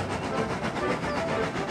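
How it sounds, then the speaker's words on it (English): A storybook steam train sets off, a steady rolling rumble with faint rail clatter and hiss running continuously at moderate loudness, no voices. "the strange train set off"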